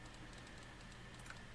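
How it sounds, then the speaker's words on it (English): Soft, rapid typewriter-style clacking from the strategy video game Victoria 2, faint and continuous with quick irregular key hits and no talking. "What is with all these typewriters and crap going off?"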